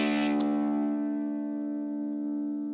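A 1983 G&L F-100 electric guitar with its onboard preamp switched off rings out in a single strummed chord that sustains and slowly decays, alone and clear.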